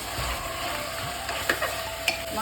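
Mutton pieces sizzle and fry in a pan for a Bengali mutton kosha, with a steady close hiss broken by a few scraping stirs of a spatula toward the end.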